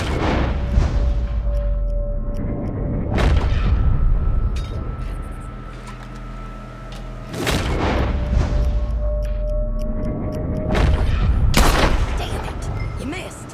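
Several loud gunshots ring out in Red Dead Redemption 2, sharp broadband cracks at roughly three-to-four-second intervals over a rumbling game soundscape with a steady tonal hum.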